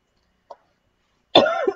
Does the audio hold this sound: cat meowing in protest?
no